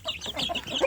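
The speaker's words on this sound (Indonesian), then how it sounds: "anak ayam kampungnya ini jadi mendekati untuk pur ya dulu, untuk makan" Free-range village chicks crowd around their feed, giving a brief, close burst of soft overlapping peeps and clucks.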